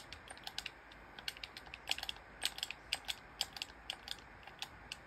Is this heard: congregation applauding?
no